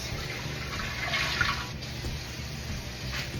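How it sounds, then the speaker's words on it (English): Water pouring into a pressure canner while canning dried pinto beans, a steady rushing splash that swells briefly midway and carries on at close range without any talking. "we're going to put 3 quarts of water in our canner"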